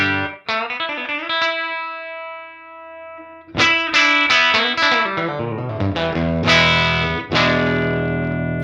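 Electric guitar played through a Universal Audio Woodrow '55 Tweed Deluxe amp plugin with the gain turned up, ringing distorted chords and sustained notes, a pause, then a burst of loud strummed chords; no talking.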